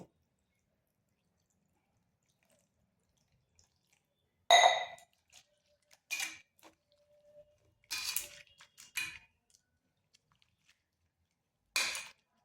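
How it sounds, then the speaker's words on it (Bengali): Grated raw potato being washed with water by hand, heard as a few separate short splashy bursts with long silent gaps between them. "এরপর জল দিয়ে ভালো করে ধুয়ে নেব।"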